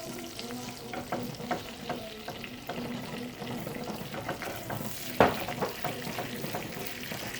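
Soy sauce and olive oil sizzling in a pan while being stirred steadily, with a continuous crackling fry, repeated scraping strokes and one sharper clack near the end.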